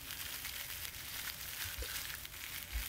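Slightly firm tomato slices fry lightly in a pan, giving a faint steady sizzle with small crackles and a brief clatter at the end.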